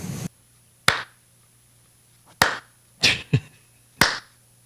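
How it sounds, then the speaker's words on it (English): Slow, deliberate hand claps, five sharp smacks spaced about a second apart with a pause, close and loud in a quiet room. "Oh, you're giving them the slow clap"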